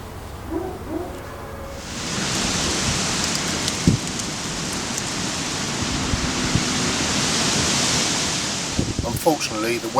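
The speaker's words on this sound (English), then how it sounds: "the rains and storms returned, and the river once again was in flood" Heavy rain falls beside a flooding river, a dense, loud hiss that swells in after a quieter start and holds steady, with a few faint knocks and thuds and brief voice-like sounds near the start and end.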